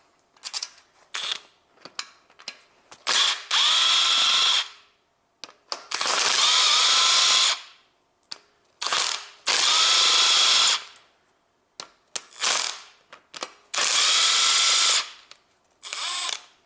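A power tool with a 10mm socket whirs in repeated bursts to back out the long camshaft cover bolts on a Honda Civic 1.8 engine, each spin broken up by clinking and brief quiet gaps.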